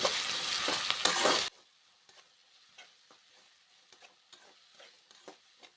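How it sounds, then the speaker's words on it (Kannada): Onions with salt frying toward golden brown give a loud, dense sizzle for the first second and a half, then it drops away to faint scattered clicks and scrapes. "ಚೆನ್ನಾಗಿ ಗೋಲ್ಡನ್ ಬ್ರೌನ್ ಬರೋವರೆಗೂ ಫ್ರೈ ಮಾಡ್ಕೋಬೇಕು"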